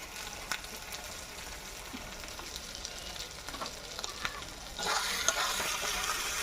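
Whole spices and ground turmeric fry in a pan for a Bengali chicken curry. A steady, soft sizzle is broken by light scraping stirs, and it turns brighter and louder near the end.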